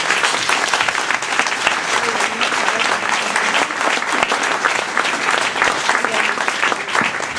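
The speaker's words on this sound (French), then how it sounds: "J'aimerais qu'on les applaudisse" Sustained audience applause at an evening launch event for the Travelling festival in Rennes, a dense, steady wash of many clapping hands filling the room for the whole stretch without pause.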